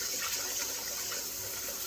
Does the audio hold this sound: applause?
no